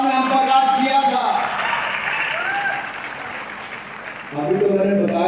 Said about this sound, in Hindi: आपने ताली पहले बजा दी